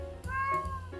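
Cat giving a single clear, drawn-out meow up close in a garden setting, short and fairly loud against quiet background.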